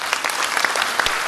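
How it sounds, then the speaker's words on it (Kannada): Audience clapping at a live Kannada comedy show, a crowd applauding together; brisk, dense applause with a few sharper individual claps standing out near the end, no speech. "ಒಂದು ಚಪ್ಪಾಳೆ ಎಲ್ಲರಿಗೋಸ್ಕರ"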